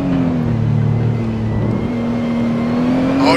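In a racing video game at Hockenheim, a Nissan GTR and a BMW M3 roar with a loud, sustained engine drone, pitch holding steady and then rising slightly near the end.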